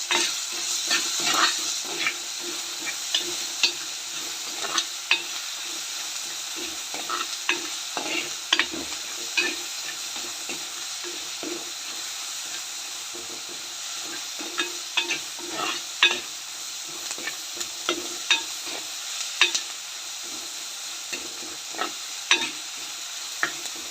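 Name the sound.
onions sautéing and being stirred in a pan with salt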